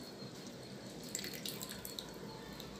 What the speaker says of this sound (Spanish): Es un chorrito de naranja agria.